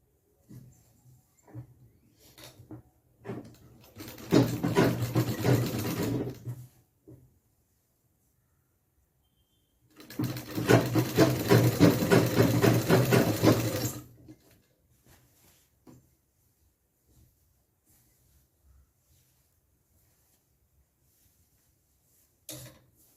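A sewing machine stitches the waistband of a pattiyala pant. It runs in two steady bursts of a few seconds each, with quiet fabric handling before and after.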